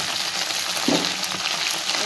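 Okra sizzles steadily in hot oil in a kadai while a curd okra curry is cooked, with a constant hissing fry and a brief stir-like bump partway through.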